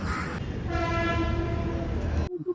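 A passing train with a horn, heard during a trip to a Raksha Bandhan celebration: steady, loud rumble and clatter of the moving train with a sustained horn tone, then an abrupt cut to quiet.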